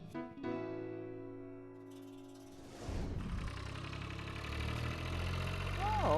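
A farm tractor engine idles nearby as a steady low rumble with some rattle, kicking in after a few seconds of sustained tones at the start and continuing to the end.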